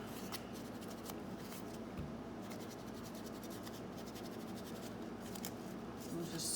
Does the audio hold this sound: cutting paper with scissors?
yes